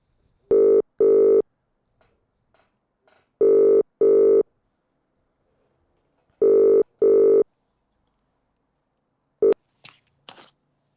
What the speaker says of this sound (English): let's give him a call